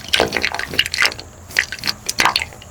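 Water sloshes and splashes in a hand-drilled backyard well about seven feet deep, a close series of irregular wet bursts and gurgles without speech.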